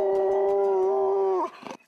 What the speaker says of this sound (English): each blue tick is born with its own unique howl